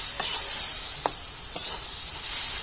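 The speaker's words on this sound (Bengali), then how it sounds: "এবারে এটাকে আমরা নেড়ে নেবো ভালো করে।" Boiled peas and potatoes for ghugni being stirred in a pan over a steady background sizzle, with a few soft, scattered scrapes of the spoon through the mixture.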